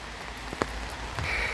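Rain patters steadily during an autumn morning walk, a soft, even wash of drops with a few sharper taps close by.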